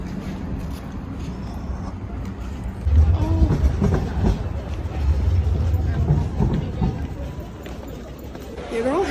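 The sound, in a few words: metro train riding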